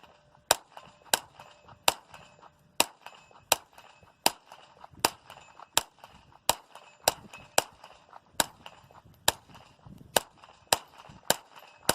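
Rapid gunshots ring out one after another at a shooting target, about twenty sharp cracks at a steady, quick rhythm, close and loud with no talking.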